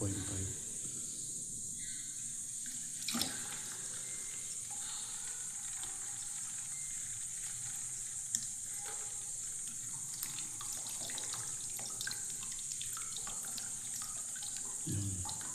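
Tap water running steadily into a 1.5 litre plastic bottle, a constant close hiss with faint clicks and a few small knocks.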